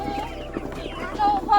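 Free-range chickens cluck nearby in short bursts, with a couple of higher squawks near the end and a low murmur of background voices.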